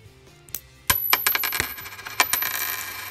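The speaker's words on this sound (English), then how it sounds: "love the sound of money dropping" Loose coins clatter and jingle into a pile from a cash roll, several sharp metallic impacts landing in quick succession and then scattering on, close and fairly loud with no talking.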